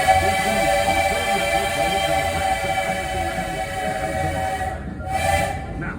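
A Walt Disney World Railroad train at Magic Kingdom rolls along with steady rumbling and a sustained tonal whistle-like drone throughout, easing briefly near the end before resuming.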